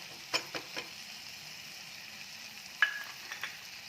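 A spoon stirs eggplant bharit with sautéed onion, red chilli powder and fresh coriander in a pan, giving a few soft scraping clicks over a faint steady sizzle, with one sharper scrape near the end.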